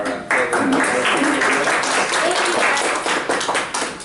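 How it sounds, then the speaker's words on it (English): Loud applause with some cheering from students at a school debate event, a dense crowd roar that starts abruptly and holds steady, with faint voices mixed in. "A round of applause for our"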